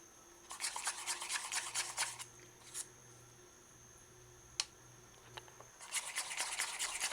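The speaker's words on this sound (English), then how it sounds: "Spin the spoon fast like a mixer. Mix the dough smooth." A tablespoon whisks corn fritter dough rapidly in a bowl, producing bursts of fast scratchy stirring, close and fairly quiet, separated by a pause with a faint tap.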